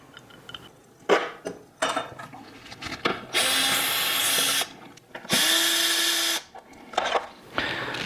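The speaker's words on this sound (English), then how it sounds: "So as to not to lose the screws, we're going to screw them right back into the feet." A power drill drives screws back into the plastic feet of a Vizio TV in two sustained whirring bursts, mixed with clicks and clinks of handling parts.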